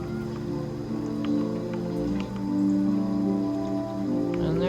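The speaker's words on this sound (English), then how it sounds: "It's raining." Rain falling steadily in the video game Niche, a soft continuous patter of drops layered over a low ambient drone and game music, with a few faint clicks and no voices.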